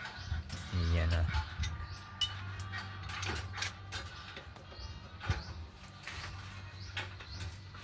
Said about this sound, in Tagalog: kinakalas na natin yung kanyang axle bolt